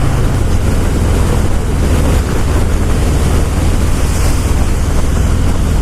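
Loud, constant wind roar buffets the microphone while riding a 2018 Harley-Davidson Fat Boy 114 at highway speed, a dense rushing blast with a low rumble underneath.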